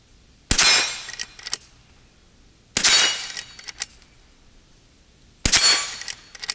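Three loud, sharp shots from a Henry H001 .22 LR lever-action rifle, spaced about two to three seconds apart, each followed by metallic clicks of the lever cycling, outdoors with no talking.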